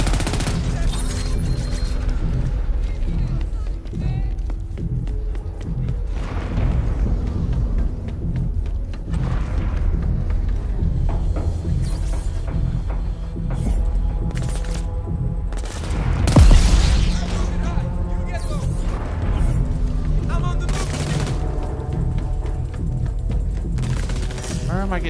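Gunfire in Crackdown 3 crackles through a busy combat scene as repeated bursts of shots and booming impacts over a steady low rumble, with one heavier blast standing out midway.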